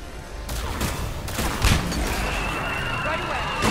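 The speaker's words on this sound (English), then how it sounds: "Missiles are hot." Ship-mounted missiles firing in the Mass Effect 3 video game, a dense burst of rapid launches and booming impacts rolling over several seconds, with a voice talking over the barrage.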